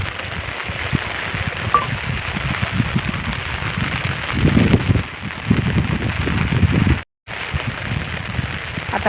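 Heavy monsoon rain pours down outdoors near a flooding stream as a loud, continuous patter and rush with bursts of heavier drops. It stops briefly near the end, then resumes.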